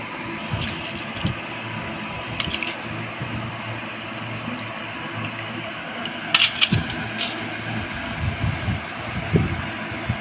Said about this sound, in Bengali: সেটা আমি ভালোভাবে ধুয়ে নিচ্ছি।